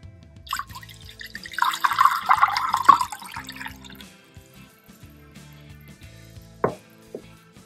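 Water is poured into a small vessel to dilute a tea tree and frankincense oil hair rinse, giving a short close burst of trickling liquid followed by quiet clinks and taps.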